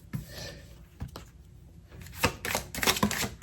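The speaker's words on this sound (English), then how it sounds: "I'm gonna do one more shuffle" Tarot cards shuffled by hand, giving soft papery rasps and a few sharp riffle bursts toward the end, close and fairly quiet with no talking.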